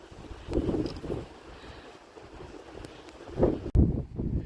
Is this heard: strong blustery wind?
yes